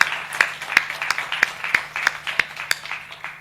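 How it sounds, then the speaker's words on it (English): Slow, sparse clapping from a small audience at an inaugural conference panel: a dozen separate, evenly spaced claps, fairly close and distinct, with no talk. "A huge round of applause for him."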